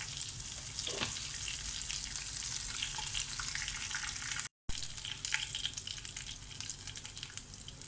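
Curry leaves frying in hot oil for lemon rice, a soft continuous crackling sizzle with a brief sharp spatter near the start and a short gap midway.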